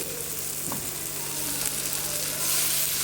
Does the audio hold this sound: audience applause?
no